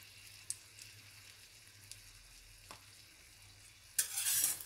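Chicken and potato samosas fry in hot oil with a soft steady sizzle, a few faint clicks along the way, then a louder burst of bubbling hiss near the end; no one speaks.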